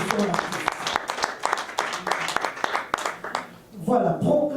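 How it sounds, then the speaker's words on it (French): Audience applause at a Congolese music award ceremony held during a press conference, honoring a star of African music; a dense patter of clapping runs throughout, with a voice speaking over it near the end. "Nous allons applaudir pour lui."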